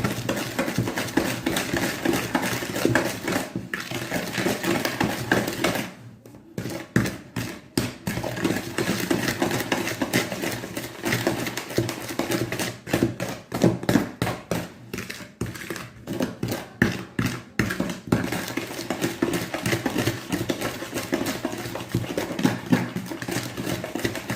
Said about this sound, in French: Vous mélangez jusqu'à ce que le sucre soit dissous dans le beurre.